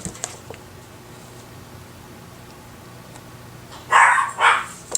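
Two loud dog barks close together near the end, each a short bright burst, after several seconds of quiet indoor room tone with faint ticking.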